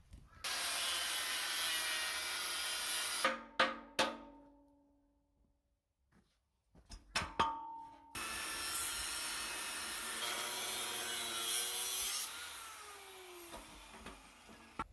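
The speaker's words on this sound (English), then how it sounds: "I'll cut the rest of the legs off and we're away." Metal cutting on the legs of an old steel gas tank: a loud, steady power-tool whine with grinding rasp, a pause with a few knocks and clanks, then the cutting resumes close by.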